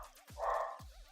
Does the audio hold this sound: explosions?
no